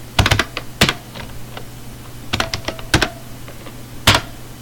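Python code being typed on a computer keyboard: irregular bursts of crisp, close key clicks, clusters of quick taps separated by short pauses, with no talking.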